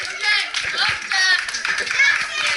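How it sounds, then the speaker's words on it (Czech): A children's pirate-themed magic party audience claps for a boy named Kuba, a short burst of quick scattered applause from small hands with children's voices and chatter mixed in. "Zatleskáme Kubovi všichni"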